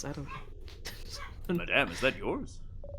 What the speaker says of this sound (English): I also hear a dog in the distance.